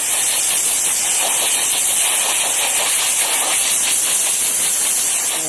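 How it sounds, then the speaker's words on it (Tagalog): Compressed air blasts steadily at an Isuzu Traviz car air filter, a loud, unbroken hiss that holds its strength from start to finish with no voices over it. "Pinabugahan na natin yung air filter at saka yung takip ng airbox"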